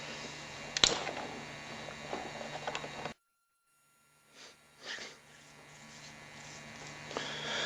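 Blue coloured hairspray hisses steadily from an aerosol can onto hair for about three seconds, then cuts off, leaving a few faint rustles.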